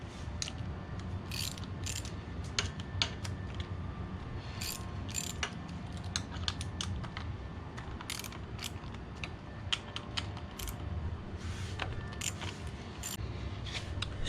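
Ratchet clicking steadily as an 8mm socket backs out the clutch cover bolts on a Kawasaki KLX351 engine, a run of sharp close pawl ticks in uneven bursts over a low mechanical hum.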